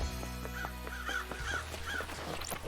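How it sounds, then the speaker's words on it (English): Several crows caw repeatedly in the video game Paradise Killer, harsh calls layered over a steady ambient game soundscape with no talking. "Also, lots of crows."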